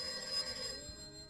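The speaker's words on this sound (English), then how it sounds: "There's quite a lot of phone ringing at the top of this." A telephone bell rings in a radio play set in a domestic kitchen, the ring faint and steady against a low background murmur for just over a second.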